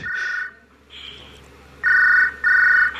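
A phone rings inside a video game with electronic tones in repeated bursts, the later rings louder and steadier, heard alone without talk.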